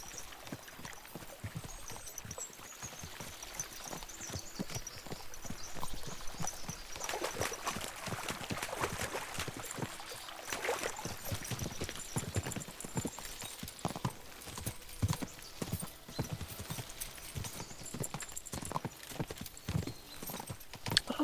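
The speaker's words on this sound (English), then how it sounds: "we'll give the horses a gallop again." Horses gallop in the medieval video game Kingdom Come: Deliverance II, a dense, continuous clatter of hooves with rapid rhythmic thuds lasting throughout, with occasional faint whinnies.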